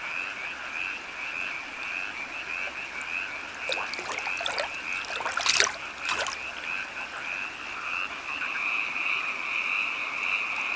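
Night chorus of fire-bellied toads and tree frogs, continuous high trilling with a burst of loud, close croaks in the middle before the steady chorus resumes.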